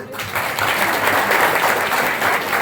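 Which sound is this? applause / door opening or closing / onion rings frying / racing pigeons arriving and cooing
applause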